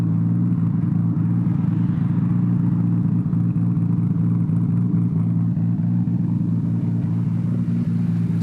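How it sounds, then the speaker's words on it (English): A turbocharged Lexus IS300 drives along with its exhaust sounding out, a steady low engine drone and rumble that stays loud and even throughout, with no voices. "Exhaust sounds beautiful."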